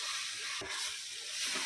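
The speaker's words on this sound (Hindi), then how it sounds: "अदरक लहसुन का कच्चापन जाने तक उसको भूनेंगे अच्छे से" Ginger and garlic frying in a pan give off a steady, close sizzle with a brief stirring clatter near the middle.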